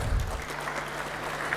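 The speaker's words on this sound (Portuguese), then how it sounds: "Un aplauso, por favor." Audience applause for a speaker at a petroleum industry conference: a short, dense spell of steady clapping filling the room, with no talk over it.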